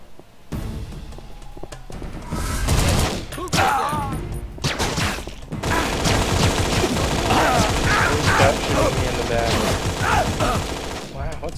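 Enemy gunfire in the Infernal video game at the Hochtempelberg Monastery, dense bursts of shots and rapid automatic fire coming in waves, loud and close, with brief crashes, under a player's intermittent speech.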